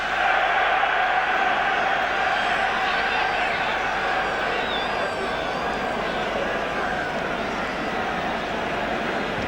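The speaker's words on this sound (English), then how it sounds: "that shot has woken up the Germans in the crowd" German fans in a football stadium crowd at a European Cup Final, Liverpool against Borussia Mönchengladbach in 1977, roar steadily as a broad, distant wash of noise, with a commentator talking over it.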